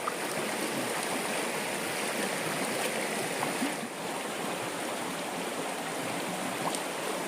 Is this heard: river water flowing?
yes